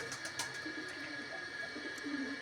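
Pigeons kept as breeding pairs give soft, low cooing calls, faint and repeated over a couple of seconds against a quiet background hum.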